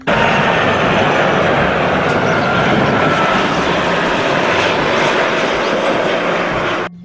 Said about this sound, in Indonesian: lihat yang ini pesawat terbang Airland teman-teman